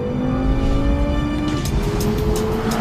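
A 2014 BMW M6 Gran Coupe's high-revving engine roars steadily at around 150 mph, its pitch climbing slightly as it pulls hard, with a rushing wind noise layered over it.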